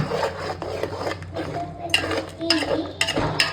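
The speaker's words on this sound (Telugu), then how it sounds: "ఒకసారి కలబెట్టుకొని ఉడకనిద్దాం కొద్దిసేపు" A spoon stirs tomato puree into chicken curry in a pot, with scraping, rubbing and occasional metallic clinks against the pot's side, close up and irregular.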